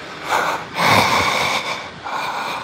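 A voice imitates Darth Vader's mechanical mask breathing, close and loud, with rasping inhales and exhales in a slow repeating rhythm.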